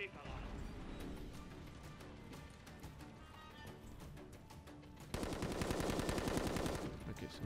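An automated turret in Call of Duty Modern Warfare 3 fires rapid bursts amid dense combat noise, swelling into a loud, sustained stream of fire near the end, with a voice talking over it.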